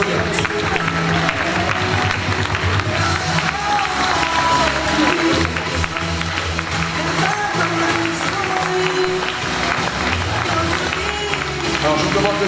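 Festival crowd applauding as girls parade one by one at a queen-of-the-festivities election in Hagetmau, dense continuous clapping mixed with loud voices and music throughout.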